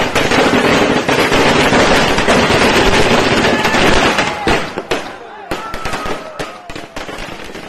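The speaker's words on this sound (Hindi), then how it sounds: "एक दूसरे को मिठाइयाँ खिलाई गईं और पटाखे भी जलाए गए।" A dense barrage of firecrackers at an election victory celebration in India crackles and pops loudly and continuously, then thins into scattered bangs, with voices in the crowd beneath.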